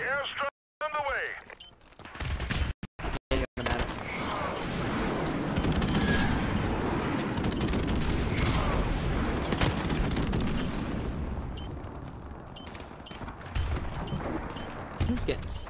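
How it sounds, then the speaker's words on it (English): A friendly airstrike in Modern Warfare Remastered sounds as a long, heavy rumble of explosions and gunfire that swells and holds loud after a few choppy bursts, with a player talking over it. "Friendly airstrike on the way."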